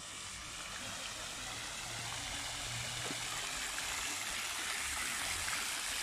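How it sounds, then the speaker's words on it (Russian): A city fountain in Limoges sends out a steady, faint rush of splashing water, an even hiss with no pauses, heard from some distance alongside a low background hum. "Фонтан на фонтане."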